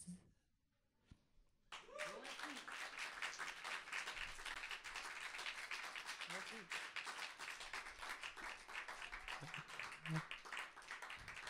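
Enthusiastic audience applause at a slam poetry stage event in Liège, beginning after a short quiet moment and swelling into sustained, dense clapping with scattered cheers and voices.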